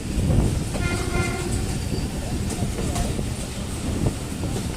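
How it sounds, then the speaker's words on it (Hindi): Awam Express passenger train running on rails as it nears Sargodha Junction in Pakistan, a steady rumble and rattle of carriages throughout with faint high horn-like tones, no talking. "13 अब अवाम एक्सप्रेस इस वक्त सरगोदा जंक्शन पे पहुंच रही है।"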